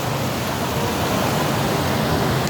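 River water rushes and flows steadily beside a riverside walkway, a dense, even wash of sound with no break, close and fairly loud throughout.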